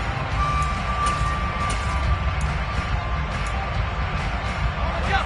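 Crowd noise from a home stadium in a PS5 football video game, a steady broad roar and babble of many voices that holds throughout without breaks.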